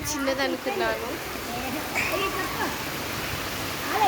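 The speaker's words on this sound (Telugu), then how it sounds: "పెద్ద వర్షం పడుతుంది" Heavy rain pours in a constant close wash of splashing water while children's voices call and chatter over it.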